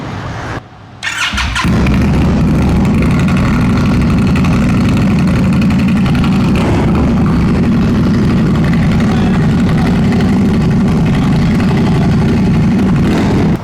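A motorcycle fitted with aftermarket pipes cranks briefly, fires up, and settles into a loud, throaty, steady idle with a deep rumbling exhaust that runs on uninterrupted.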